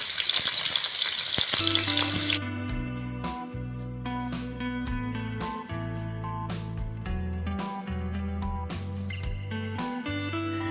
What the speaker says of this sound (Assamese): মই কাটি থোৱা পিঁয়াজখিনি ঢালি লৈছোঁ এইখিনি অকণমান দেৰি ভাজি ল'ম